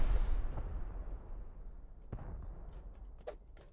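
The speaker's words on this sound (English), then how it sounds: "There is explosions left, right, and center still, but no luck yet." Explosives blasting through base doors during a 3v3 Rust tournament raid: a loud boom opens the clip, then fainter thuds and a sharp crack follow over a rumbling background.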